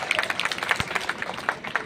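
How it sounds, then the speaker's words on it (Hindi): An audience at a live political gathering in Burhanpur, India, breaks into scattered, uneven clapping. It is brief and moderately loud, with a faint murmur of voices underneath. "1250, जरा ताली बजनी चाहिए कि नहीं?"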